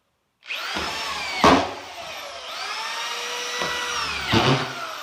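A screw gun drives screws during a tiling job in an old house, two bursts of whirring motor with a sharp thud as each bite starts, alone and close.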